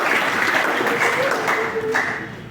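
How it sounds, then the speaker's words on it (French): Audience applause at a Congolese UDPS federation celebration in Boma, a brief burst of clapping with voices and a raised shout over it, easing slightly toward the end. "Nous pouvons applaudir pour eux."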